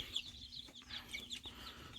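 Chickens cluck softly in short, scattered calls over a low background hum, fairly quiet and close by.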